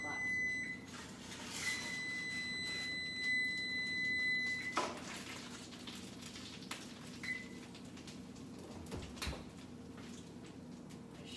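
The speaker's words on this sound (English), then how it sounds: "Okay, the timer's going off." A kitchen oven timer beeps repeatedly in a steady, shrill pattern for several seconds and then stops, leaving a quiet room with faint background noise.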